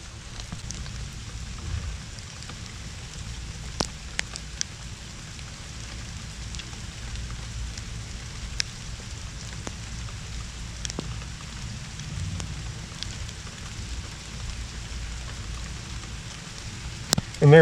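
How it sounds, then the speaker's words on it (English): Steady rain patters across a tomato garden, a dense even hiss with a few sharper drips and taps standing out near the close, no voices over it. "I'm going to put another string up real quick while the rain's falling down."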